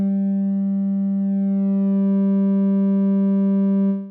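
A saturated sawtooth oscillator in the Ableton Drift synth holds one steady low buzzing note rich in harmonics for about four seconds, then cuts off.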